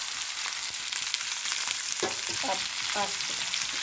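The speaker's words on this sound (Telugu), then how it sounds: "బెండకాయ ఫ్రై చేస్తున్నాను" Okra sizzles and crackles steadily in oil in a pan, with a few stirring scrapes partway through, close and moderately loud.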